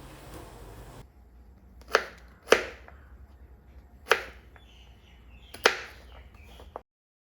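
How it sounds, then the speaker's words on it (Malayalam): Peeled jackfruit seeds are chopped into small pieces with a knife on a board, giving four sharp, distinct chops spaced irregularly over a few seconds in a quiet kitchen, with no talking. "ഇനി ഇത് ചെറിയ പീസുകളായിട്ട് നമുക്ക് അരിഞ്ഞെടുക്കാം."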